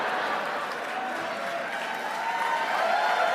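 Studio audience applause on a live comedy news show, a steady wash of clapping held at even loudness throughout, with some crowd murmur mixed in.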